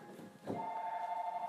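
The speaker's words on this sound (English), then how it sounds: "The phone's ringing all the time." A telephone rings once after a brief low thump, with a steady, sustained electronic tone that holds to the end in a quiet room.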